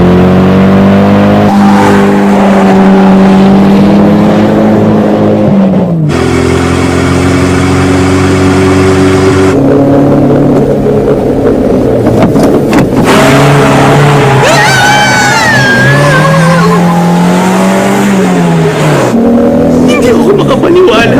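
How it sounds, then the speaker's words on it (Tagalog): Car engine in the Initial D racing video game revving and holding a loud, continuous mid-pitched drone that repeatedly rises and falls through gear shifts, filling the whole stretch. "Uy, may kotse pa parating."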